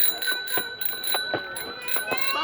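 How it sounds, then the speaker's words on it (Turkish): A bell rings repeatedly in quick bursts over children's voices and playground chatter, fairly close and steady. "zil çalıyor"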